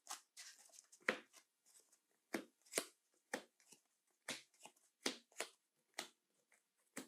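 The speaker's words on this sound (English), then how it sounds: "and also replenish the galaxy deck and shuffle my deck." Cards for the Star Wars Deckbuilding Game: Clone Wars Edition being shuffled in repeated crisp riffles and snaps, close up and fairly quiet, with short pauses between bursts.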